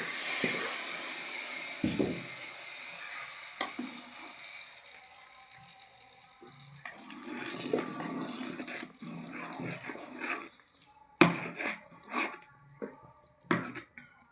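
Hot oil tempering of dried red chillies and curry leaves poured into a Kerala-style ripe mango curry, a sharp sizzling hiss that fades into crackling, with scattered clinks and clatter of the pan near the end.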